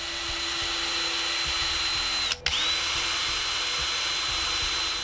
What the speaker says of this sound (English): I drilled some pilot holes first with this piece of tape around the drill